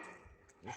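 A dog gives a brief, faint bark or yip, a single short call heard at a distance.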